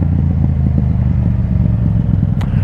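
A motorcycle engine rumbling and revving briefly while downshifting with a little gas, loud and close, with a throaty pulsing drone.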